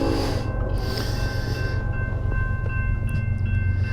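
Freight train laboring past nearby, a heavy continuous rumble with rattling wagons and faint high squeals, steady and loud throughout.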